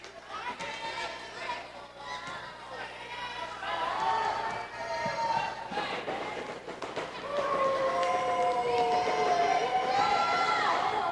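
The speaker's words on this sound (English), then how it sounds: "A little bit of noise from the El Dorado crowd." Crowd at a 1994 high school girls' basketball game, a continuous murmur and swell of voices filling the gym with rising cheers, while a commentator talks over it.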